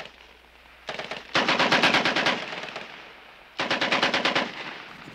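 Bursts of rapid machine-gun fire in a wartime film scene, loud and close, come in two long rattling volleys separated by a short lull.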